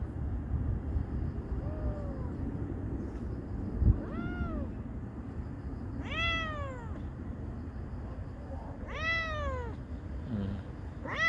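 A street cat meows several times, a few short calls spaced over a low background rumble, close and clear with no talk.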